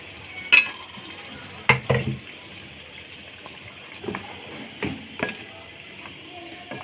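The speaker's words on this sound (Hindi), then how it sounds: "मीडियम आंच पे अच्छे तरीके से इसे भूनेंगे" Blended tomato masala frying with chicken and potatoes in a pot over medium heat: a steady soft sizzle broken by occasional clinks and scrapes of stirring.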